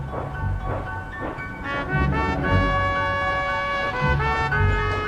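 A steam locomotive labors slowly uphill with heavy rhythmic chuffing and rumbling, then a sustained whistle tone rises over the chugging near the end.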